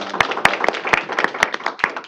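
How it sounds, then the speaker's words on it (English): A small group at a Michigan State Board of Education meeting gives a thin round of applause: a few distinct, sharp hand claps at an uneven rhythm with soft clapping between them, close and moderately loud. "Let's give her a round of applause."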